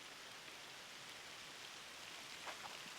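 Steady rain falling outdoors, a continuous broad hiss of drops on surfaces, even and moderate with no voices.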